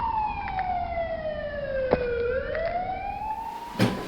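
A loud, close ambulance siren wails, its tone sliding down and then back up, over a steady rumble of road traffic.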